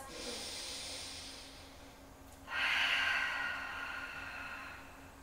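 Deep breathing during a post-run yoga stretch, with knees pulled to the chest: a soft breath in followed by a louder, longer hissing exhale, close and unaccompanied.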